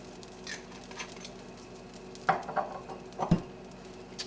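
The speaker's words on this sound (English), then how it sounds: "we do just want to lightly toast these walnuts" Walnuts lightly toasting in a pan with a little oil: a faint, steady background hiss broken by a few close clatters and scrapes as the nuts are stirred and moved around.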